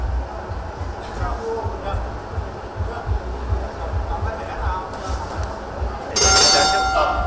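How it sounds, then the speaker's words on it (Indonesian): A boxing ring bell rings out to end the first round of a bout in Vietnam. It gives a bright, loud metallic clang near the end, following a steady murmur of voices and arena noise. "bel pertanda berakhirnya ronde pertama pun berbunyi"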